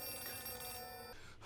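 Telephone ringing in the horror video game Outlast 2, a continuous bright electric bell ring that fills the clip at steady level and cuts off near the end, with no talk.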